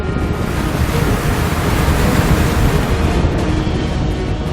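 Rough sea wind and waves batter a fishing boat at sea, a loud, steady roar of surf and gusting wind buffeting the microphone, with no voices.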